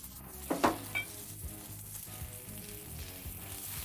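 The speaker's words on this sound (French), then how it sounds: "Ici, nous allons griller des oignons." Onions grill in butter on a hot surface for a burger, giving a continuous soft sizzle and crackle with a couple of brief clatters of a utensil near the start, fairly quiet overall.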